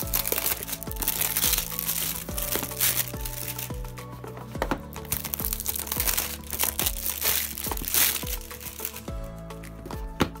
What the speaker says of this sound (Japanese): じゃあ一番上のボックスから開けてみようと思います。